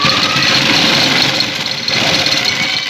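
A sewing machine runs nonstop at high speed while stitching a lace strip onto a neckline, making a loud, dense, continuous motor drone up close.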